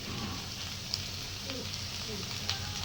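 Spices sizzle and crackle softly in hot oil in a pan while tempering for a curd dish, a faint, steady hiss with a couple of small pops.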